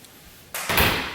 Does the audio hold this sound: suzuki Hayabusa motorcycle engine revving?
no